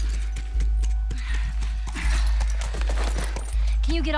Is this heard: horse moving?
yes